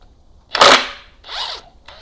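Impact wrench driving a bolt on the engine gears of a 1972 Pontiac GTO during reassembly, a loud short rattling burst followed by a second fainter whirring pulse and a brief third start, close by with no talk.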